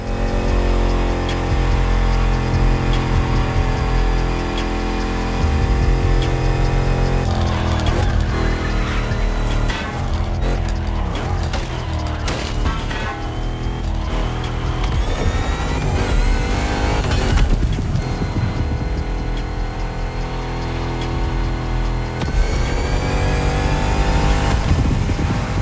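BMW M5 Drift Edition in the racing game The Crew Motorfest, its engine droning and revving steadily for a long stretch, rising and falling through gear changes with bursts of acceleration and tire noise, loud and continuous throughout.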